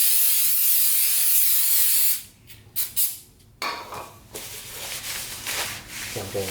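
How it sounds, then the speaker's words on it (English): An aerosol can sprays a loud, continuous hiss for about two seconds while Miata brake pads are changed, then short bursts, followed by rubbing and wiping sounds up close. "I'm getting high from this thing. These sprays."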